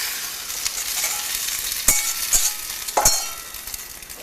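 Beaten egg mixture poured into a hot frittata pan, crackling and sizzling steadily up close, with a few sharp clinks and scrapes of a utensil stirring it, no voices.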